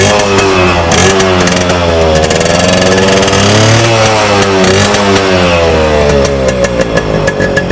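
A restored Yamaha RX100 motorcycle engine runs loud and close, a steady buzzing two-stroke drone with rising and falling revs throughout, with no voices.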